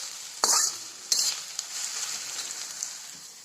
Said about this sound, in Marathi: आता हे कांदे चांगले भाजून घेते लसूण कांदा हिरवी मिरची